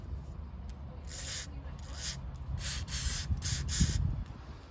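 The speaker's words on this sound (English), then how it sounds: "Some WD-40, great stuff." A can of WD-40 is sprayed onto a Honda Civic engine part in several short hissing bursts of varying length, close by and moderately loud over a low background rumble.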